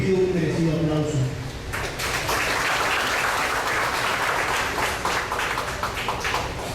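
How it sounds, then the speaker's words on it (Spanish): An audience at a law conference lecture breaks into applause after a spoken introduction; a voice is heard briefly at first, then dense, steady clapping from many hands fills the rest. "pido un merecido aplauso"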